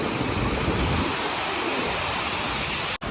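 Water rushes out through the open gates of the Nizamsagar dam in a steady, loud, unbroken roar that fills the whole clip, with a brief dropout near the end.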